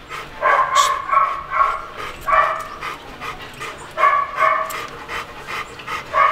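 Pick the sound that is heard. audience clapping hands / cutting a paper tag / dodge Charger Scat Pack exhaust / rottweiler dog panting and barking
rottweiler dog panting and barking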